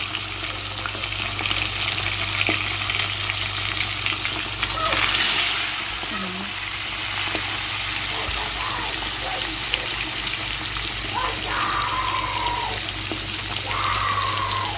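Fish frying in hot oil gives a steady, broadband sizzling hiss that continues through the whole stretch, with a few faint clinks and murmurs of activity in the background.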